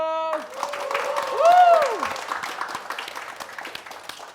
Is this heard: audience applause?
yes